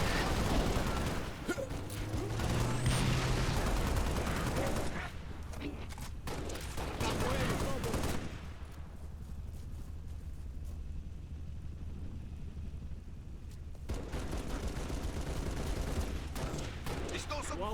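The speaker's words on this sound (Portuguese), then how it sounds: "Recebendo disparos." Enemies fire guns in the video game Dying Light 2: dense, overlapping volleys for the first half, then fading into a quieter, hollow ambience with scattered sharper reports near the end.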